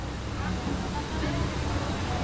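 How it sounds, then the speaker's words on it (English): Tegenungan waterfall in Bali, a steady broadband rush of falling water heard at a distance, with faint crowd noise mixed in. "That's the waterfall."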